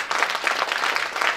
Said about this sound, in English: Clap for your own self.